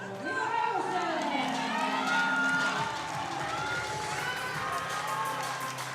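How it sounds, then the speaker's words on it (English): A crowd cheers and shouts loudly throughout an equipped powerlifting championship as the coach urges more noise, a dense sustained roar of voices with whistles and chatter mixed in. "And the coach urges the crowd to make ever more noise."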